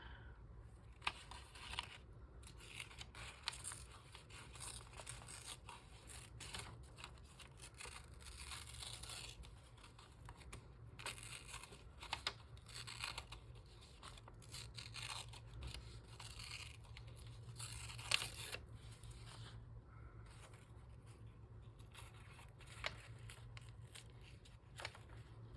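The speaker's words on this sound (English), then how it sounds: "I have a page from a 7th grade spelling book. I'm gonna rip it down." A page from a 7th grade spelling book being ripped down, its edges torn rough; a steady close paper tearing and crackling over a low background hum, with a few sharper tugs, no talk.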